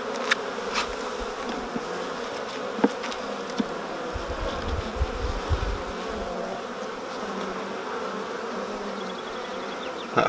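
Honey bees buzz around the frames of a hive, giving a dense, continuous close-up hum with a few brief clicks and knocks from handling the frames.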